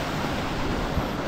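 Abbi Falls in Kodagu, swollen by heavy rain, pours as a steady, loud rush of broadband water roar, close and continuous with no pauses and no voices.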